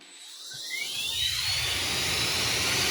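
A powerful motorized tool spins up with a rising high-pitched whine, then holds a loud, steady buzzing drone.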